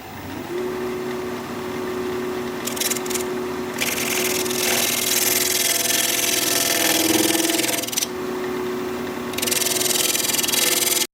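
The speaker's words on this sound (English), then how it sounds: "Little shear scraping." Steady abrasive shear scraping of a tool against wood spinning on a lathe, with a constant motor hum underneath and bursts of harsher hiss in the middle.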